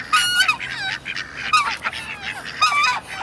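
Honking waterfowl calls come in three loud, close bursts while the birds crowd in to be fed, each burst a run of harsh nasal cries with short gaps between.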